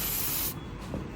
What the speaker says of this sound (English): We're just gonna spray some lubricant on